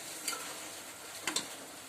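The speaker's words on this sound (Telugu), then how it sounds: "వీటన్నిటిని కూడా ఇందులోనే వేసేసి మంచిగా ఫ్రై చేసుకొని ఆయిల్ బయటకు వచ్చేంత వరకు దీన్ని మనం ఫ్రై చేసుకోవాలి" Garam masala and spices fry in oil for a country chicken curry, a soft, steady sizzle broken by a few brief stirring scrapes.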